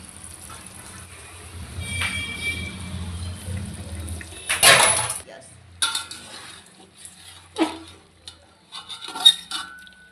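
Chicken pieces and potatoes are stirred in a cooking pot for biryani, with clanking of a metal spoon against the pot and scraping bursts at irregular intervals, fairly close, with a faint voice briefly in the background.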